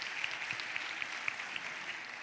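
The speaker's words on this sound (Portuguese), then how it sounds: "Salva de palmas ao professor que fez uma colocação." Audience applause for a professor at a formal event, a faint, steady patter of many hands clapping at a distance, with no talk over it.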